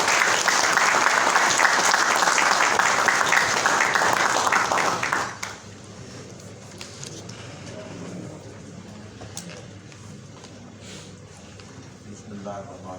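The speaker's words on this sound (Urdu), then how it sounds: "آپ کی بھرپور تالیوں میں" Audience applause fills a hall at a poetry recitation, loud and dense for several seconds before stopping abruptly, then a quieter room with faint murmuring.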